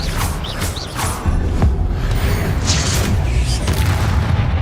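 An Expelliarmus spell is cast in the Hogwarts Legacy video game as a loud booming magical blast with creaking, rumbling layers in a busy battle. A voice speaks briefly underneath.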